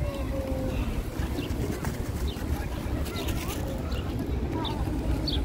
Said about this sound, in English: one thing for sure, they have a lot of birds here